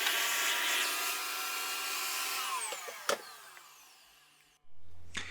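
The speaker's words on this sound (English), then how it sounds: "I grabbed a drill and a 3-inch diameter drill bit and just drilled shallow holes on each end of the cavity" Drill with a 3-inch diameter bit boring shallow holes into a wooden V-shaped guitar body; a loud, steady whir slowly winds down with a sharp tap partway through, followed by a brief silence and a low hum at the end.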